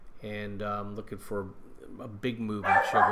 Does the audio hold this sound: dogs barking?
yes